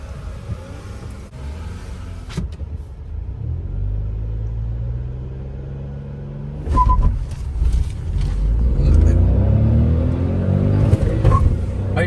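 Hyundai i20 N Line manual and Tata Nexon turbo manual cars accelerating hard in a drag race, engine rumble climbing through gears heard from inside, with a whistling turbo and a louder surge of revving past the midpoint.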